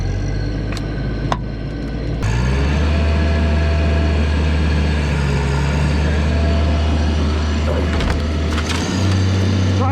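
The engine of the power unit driving a Hurst hydraulic rescue cutter revs up from a low idle into a loud, steady, heavy drone that holds for several seconds, with a few faint knocks at the start.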